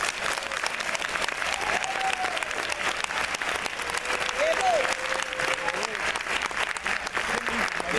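Crowd at a gathering breaking into strong, sustained applause, dense and even from start to finish, with cheers and voices rising within it.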